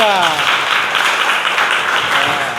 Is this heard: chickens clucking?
no